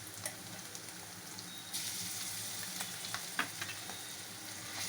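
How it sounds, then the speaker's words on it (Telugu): Ginger garlic paste frying in a pan, a close steady sizzle that swells when stirred, with a few sharp spatula scrapes and clicks. "ఇప్పుడు తగినంత అల్లం వెల్లుల్లి పేస్ట్ వేసుకొని ఫ్రై చేసుకోవాలి."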